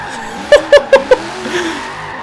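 A 1992 Ford Falcon GT drifting in Forza Horizon 3, with four short, sharp tire squeals in quick rhythm as the handbrake is kicked, over a low engine bed, and no talk.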